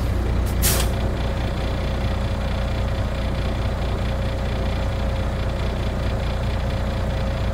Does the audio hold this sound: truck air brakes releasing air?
yes